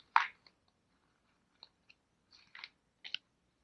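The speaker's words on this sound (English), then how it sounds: "So I'm going to take the tape off the back." Tape peeled off the back of a cardboard loom in a children's craft, heard as a few sharp close crackles and short ripping bursts separated by near silence.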